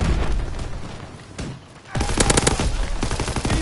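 Bursts of machine gun fire in a World War II video game battle, loud and close, with a brief lull near the middle before heavy rapid automatic fire resumes and continues steadily to the end.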